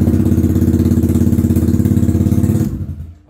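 A 2023 Honda Vario scooter engine running at a steady, loud, pulsing idle close by, then cutting out and fading to silence near the end.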